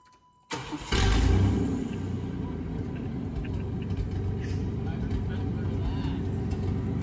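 A large GMC truck engine, abandoned for 15 years, cranks briefly and then catches, settling into a loud, rough rumbling idle that keeps running.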